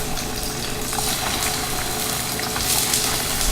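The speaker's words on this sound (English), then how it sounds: "Place the tofu slices in there." Tofu slices fry in olive oil in a pan, giving a steady, close, broadband sizzle and crackle that holds evenly throughout with no talking.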